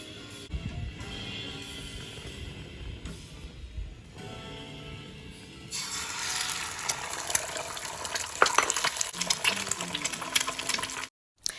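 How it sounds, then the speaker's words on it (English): Eggs frying in oil in a pan: a quiet start, then a bright, steady sizzle with scattered crackles and pops from about halfway through, with no talking. "Now I'm gonna start fry the eggs first."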